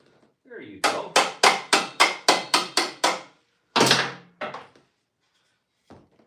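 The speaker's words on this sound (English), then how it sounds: "Mechanic's best friend." Hammer blows on a Honda ATC110 three-wheeler in a workshop: about nine loud, evenly spaced strikes in a rapid run, then a heavier blow, two lighter taps and a faint final knock.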